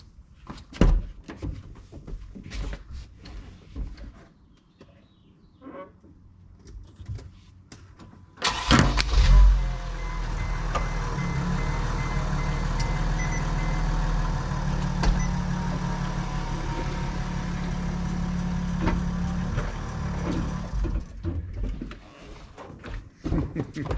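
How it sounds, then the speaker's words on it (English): A camper van engine starts with a loud burst and then runs steadily at a low, even rumble as the van drives away, with talk and door-like clunks heard before the engine starts. "I'm gonna go and start the van and start driving away."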